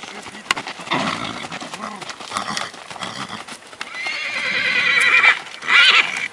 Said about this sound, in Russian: Вот гонит он остатки лошадей